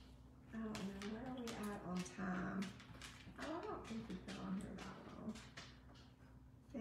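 A dog whimpers and whines softly in a series of short high cries, with quieter breathy yips mixed in, close by in a quiet room while crafting goes on.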